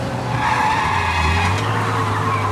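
Car tires skid in a Mafia video game cutscene, a loud, sustained screech with engine drone that holds steady for the whole stretch, with no voices over it.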